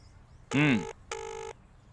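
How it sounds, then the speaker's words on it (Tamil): A telephone ringback tone on an outgoing call in an office setting, two electronic ring bursts separated by a short pause, heard clearly with nobody talking. "இப்ப நான் போன் பண்றேன், எடுப்பாங்க பாக்குறியா?"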